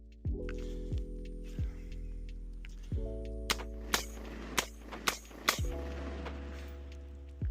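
A new range gun fires five sharp, fairly distant shots in quick succession over a few seconds, set against a steady humming tonal drone in the background.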